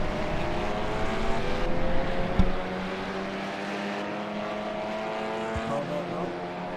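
A race car engine in the iRacing sim, running at the Nürburgring in an endurance championship round, drones steadily with layered engine tones and two brief thumps partway through.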